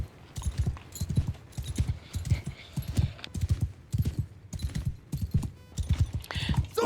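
Horse hooves clip-clop in a steady rapid rhythm in Mount & Blade II: Bannerlord, loud and close, with a faint whinny and a little background speech beneath the galloping beat.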